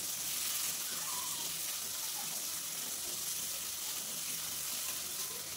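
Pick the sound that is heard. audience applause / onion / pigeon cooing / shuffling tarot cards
onion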